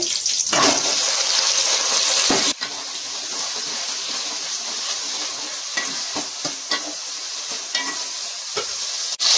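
Coriander, mint, curry leaves and chopped tomatoes fry in hot oil for a Nellore-style fish curry, a continuous close sizzle with scattered sharp clicks of stirring and one abrupt break partway through.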